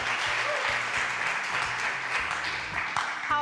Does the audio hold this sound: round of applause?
yes